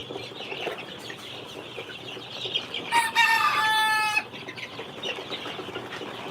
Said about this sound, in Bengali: এগুলো হচ্ছে অরিজিনাল টাইগার মুরগির বাচ্চা